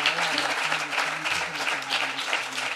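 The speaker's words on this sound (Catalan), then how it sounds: "Un aplaudiment." An audience at a good governance and sustainability event applauds award winners with continuous, dense clapping, fairly close and loud, over a faint low hum.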